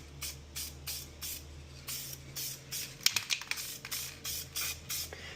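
Spray paint hissing from an aerosol can onto a car part for a turbo LS Nova build, in a series of short, regular bursts, with quicker, choppier sprays toward the end.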